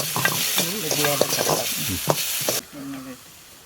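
Moringa soup with salt and pepper is stirred in a pan, giving a bright hissing sizzle with stirring scrapes, partly overlaid by a voice, before the sound cuts away abruptly.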